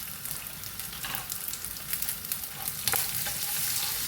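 Ginger, garlic and cashews, added after cinnamon and cloves, frying in hot oil for a North Indian style cashew cauliflower curry, giving a steady close sizzle with light stirring scrapes and occasional pops.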